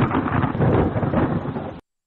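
Thunder rumbling steadily through a rainstorm over a desert dry wash, a dense continuous roar of rain and low rolling thunder that holds loud for nearly two seconds, then cuts off abruptly.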